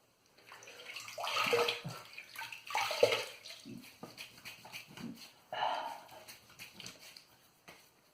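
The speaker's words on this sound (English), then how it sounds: "Let me rinse my face, wet my face to start off with" Water splashes in bursts as a face is rinsed and wet at a sink before lathering for a shave, with irregular close splashes and drips between pauses.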